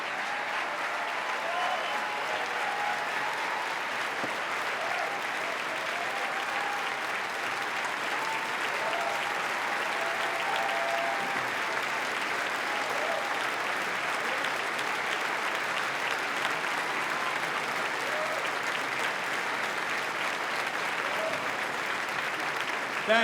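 Audience at the 2018 State of the State Address giving a big round of applause, a loud, dense and sustained wash of clapping lasting the whole stretch with faint voices mixed in.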